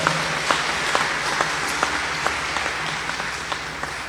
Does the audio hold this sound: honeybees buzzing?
no